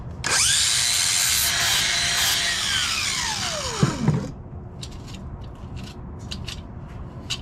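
Power tool shaving down a custom fiberglass hood for an 88-91 Civic/CRX, a high whining spin that winds down in pitch over several seconds and stops, followed by light scraping and handling noises.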